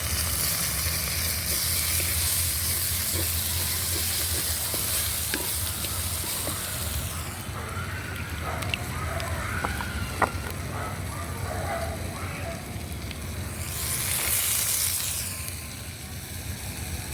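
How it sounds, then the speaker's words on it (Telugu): Seeded turkey berries fry in oil for a curry, giving a steady loud sizzle with occasional stirring scrapes and small pops, close up, easing slightly near the end. "ఉసికాయలు ఇలాగ ఆయిల్లో బాగా ఫ్రై అయితే,"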